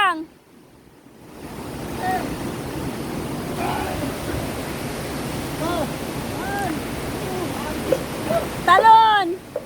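A waterfall roars as a steady, broad rush of water while several people talk and call out over it.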